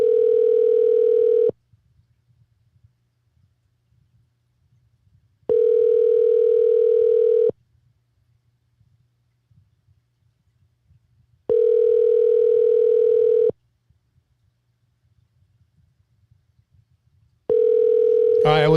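A telephone dial tone sounds in steady repeating bursts of about two seconds, separated by quiet gaps, clear and close with a faint low hum between the tones.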